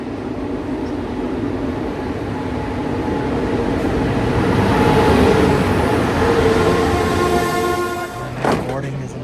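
A CFR Romanian Railways passenger train rumbles along, a dense, loud rolling roar that swells in the middle and is broken by a sharp clatter near the end, with indistinct voices mixed in.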